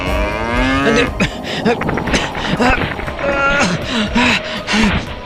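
A cartoon calf moos repeatedly, loud and close, with voices talking over and between the calls in an animated scene.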